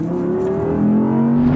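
A 2021 Audi R8 with a 5.2-litre naturally aspirated V10 revs hard and accelerates, its engine note climbing steadily and loud, close by, with no talking over it.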